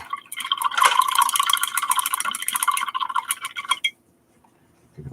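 Paintbrush swished and rinsed in a cup of water, busy splashy clinking for several seconds, then stopping abruptly into quiet with a soft thump at the end.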